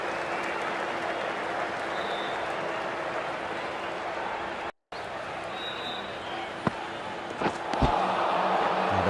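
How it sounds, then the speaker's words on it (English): A cricket crowd at an India versus West Indies match applauds steadily, a broad wash of clapping and crowd noise heard from a distance, with a brief dropout midway and a few sharp knocks near the end. "they'll receive a warm reception from the crowd"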